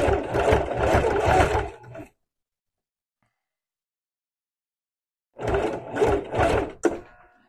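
A sewing machine stitches a denim jacket with lace inserts, running in a steady whirring burst, stopping for about three seconds of silence, then starting again for another short run.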